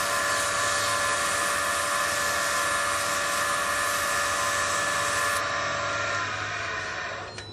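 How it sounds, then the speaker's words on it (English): Sandpaper of 220 grit pressed against spinning wood on a lathe, a steady, loud broadband whine and hiss that holds evenly for about seven seconds, shifts slightly in tone near the end, then fades out. "just as long as you kind of get the surface cleaned up, and then I'll sand that with 220"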